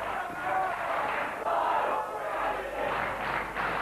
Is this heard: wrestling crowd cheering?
yes